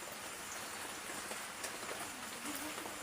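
Light rain falling outdoors during the rainy season, a steady soft hiss of small drops that runs throughout with no talking.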